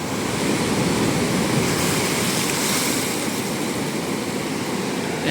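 Floodwater pours through a burst embankment and churns into large waves, giving a loud, continuous roar that swells slightly and then holds for several seconds.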